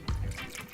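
Gin pours into a cocktail in a short, soft trickle that splashes briefly and then fades out, faint and close.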